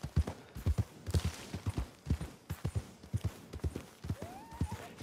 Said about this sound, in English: We'll get on my horse.